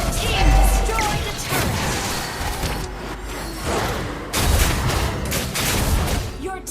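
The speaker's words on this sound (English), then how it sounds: "Your team destroyed a turret." Turret destroyed in a MOBA-style video game: a dense flurry of impacts, crashes and booms, loud with repeated bursts, and an announcer voice now and then.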